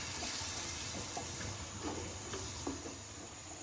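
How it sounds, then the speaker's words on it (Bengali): A small splash of water is poured into spiced chana masala in a pan, producing a soft, faint hissing wash of liquid over a sizzling background, with a few small clinks; no talk. "এর মধ্যে সামান্য একটু জল আমি অ্যাড করলাম।"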